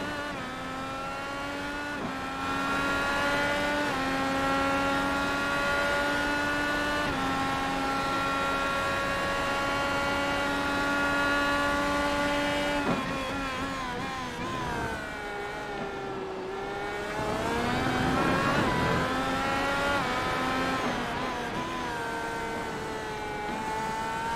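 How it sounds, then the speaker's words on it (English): An IndyCar race car engine in a racing video game screams at high revs, its pitch climbing and falling through gear changes and braking for corners at Road America, loud and alone. "And let's listen to Kev's 52 car."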